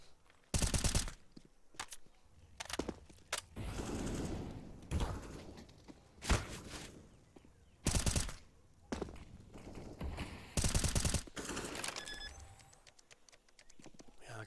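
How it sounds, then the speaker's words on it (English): Gunfire in a CS:GO match with a Molotov in play, repeated bursts of rapid shots separated by short pauses, loud and close against quieter in-game background noise. "forcing Samooks into a little bit of a firefight"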